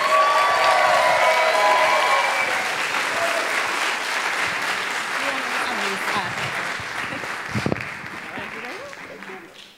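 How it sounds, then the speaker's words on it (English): A large audience applauds steadily as a speaker is welcomed to the stage, dense clapping filling the room at full strength before gradually thinning, with a voice and some crowd murmur mixed in. "keep the applause going, for Tracy Drain"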